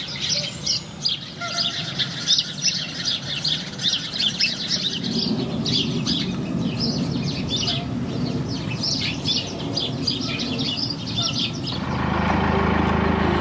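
Sparrows chirp in a busy twittering chorus beside a canal near a pub, many quick high calls running for several seconds over a steady low rumble that grows louder toward the end.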